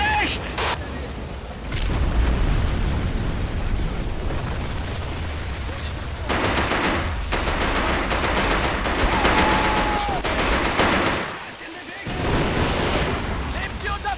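Video game gunfire in a World War II-style battle: heavy bursts and booming shots sustained across the scene, loud and dense, with a brief lull near the end before firing resumes, under shouted German voice commands.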